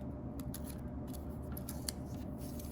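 Scissors snip through cardboard in a quick series of crisp, close cuts, sounding soft and papery, with no talking.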